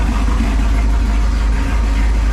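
A car engine fitted with a Holley double pumper carburetor idles close by, with a loud, steady low rumble and a slightly uneven pulse throughout and no talking.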